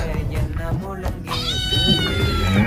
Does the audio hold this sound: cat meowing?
yes